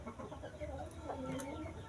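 Bantam chickens kept as a hobby flock cluck and murmur softly amid faint background noise on a farm, a low, continuous fowl chatter with no clear crowing.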